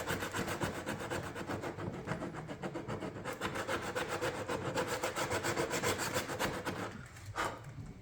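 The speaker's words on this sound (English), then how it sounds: "you want to get it where it's all sanded good with this 80 grit" 80 grit sandpaper worked by hand over a plastic car bumper gives a close, steady rasping of quick, even back-and-forth strokes that pause briefly near the end.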